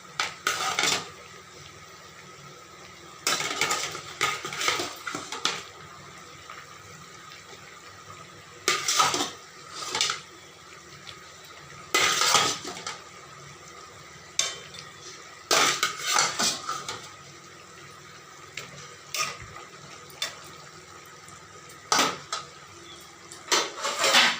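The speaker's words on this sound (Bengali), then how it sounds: "এই ফুটন্ত ঝোলের মধ্যে ভেজে রাখা মাছগুলো সব এক এক করে ছেড়ে দেবো" Pieces of fried hilsa fish slip one by one into a boiling curry, marked by soft, intermittent clinks and clatters of a utensil against the pot, spaced a few seconds apart over a quiet background.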